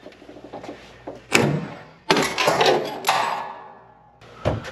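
An interior door fitted with a budget door closer swings and shuts, producing a few loud close thuds and rattles with creaky movement between them.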